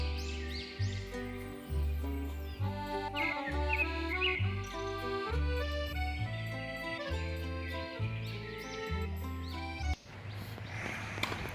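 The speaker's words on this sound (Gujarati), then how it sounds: "અને જો અત્યારે પક્ષીઓનો અવાજ કેટલો મસ્ત આવે છે." Birds chirp and call in a park, a busy layer of bright tweets running through the whole stretch over a steady, rhythmic background.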